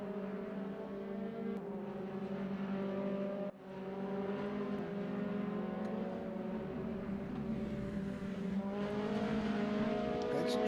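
A Mazda MX-5 race car engine in a racing sim, humming steadily with layered harmonic drone, briefly dipping around one gear change and then climbing in pitch as it accelerates, continuous and fairly loud.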